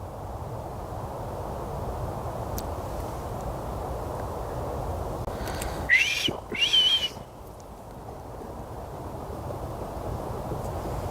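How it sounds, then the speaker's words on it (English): Two short bursts of whistling in the middle, close to the microphone, over a steady rush of wind and outdoor forest background noise. "I'm gonna whistle back again."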